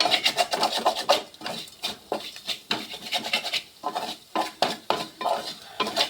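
A spoon stirs ingredients in a cooking pan, rhythmic scraping and rubbing strokes repeated close up, with a brief pause partway through.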